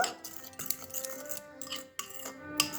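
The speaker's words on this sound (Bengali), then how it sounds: "খুব ভালোভাবে এইভাবে আমি সবজিগুলোর সাথে ডিমটা মিশিয়ে নেব" A utensil mixes beaten egg with winter vegetables and oregano in a bowl, close repeated clinks and scrapes against the bowl in an irregular rhythm, no talk.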